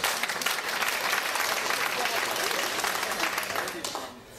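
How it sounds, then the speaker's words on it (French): Dense applause from a group during a World Rally Championship season event with Citroën Sport, steady for about four seconds before fading, with a voice talking over it. "C'est moi qui vous applaudis maintenant."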